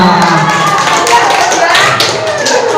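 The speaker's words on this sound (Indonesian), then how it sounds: "Tepuk tangan semua." Students in a school classroom clap their hands together in a short series of quick claps under a talking voice.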